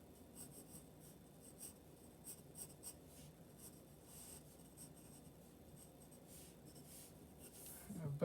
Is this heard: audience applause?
no